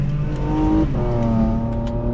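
A 2016 Porsche Macan GTS engine revving through a gear change, a loud close drone that dips in pitch at the shift and climbs again, no voices.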